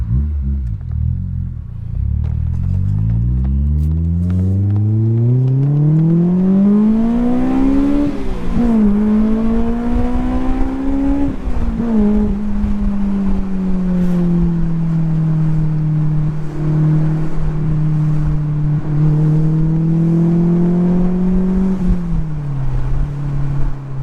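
A Honda S2 engine revs very high: a loud, close note climbs steeply for several seconds, dips briefly as it shifts, then holds a sustained high-pitched wail with small rises and falls.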